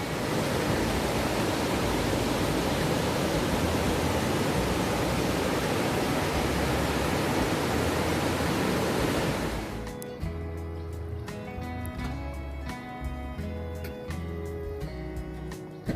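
A river flows near Keran in Kashmir's Neelum Valley, its loud, steady rushing roar filling the first nine seconds before it cuts abruptly to music.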